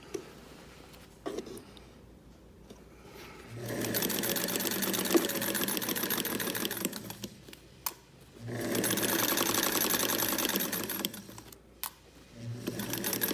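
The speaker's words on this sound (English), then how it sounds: "the sewing needle of the machine will go right in the center" Sewing machine stitching trim onto a doll's French fashion princess dress, running in two long steady bursts with short pauses and clicks between, close and loud.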